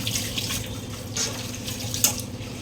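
Tap water running steadily into a sink while a soot-blackened cooking pot is washed, with soft splashing and one sharp clink near the end.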